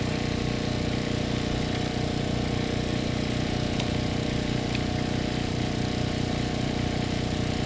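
A Cobra Crusher grinds Ohio rock, a continuous loud mechanical engine drone with rumbling vibration that stays steady throughout, close by.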